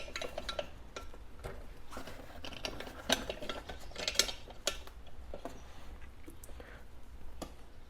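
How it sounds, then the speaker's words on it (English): Brackets being bolted onto a transmission cooler for a 2006-10 Dodge Charger R/T, with close, intermittent metallic clicks, scrapes and tool taps in a quiet workspace and no talking. "So we're going to go ahead and bolt these onto the cooler."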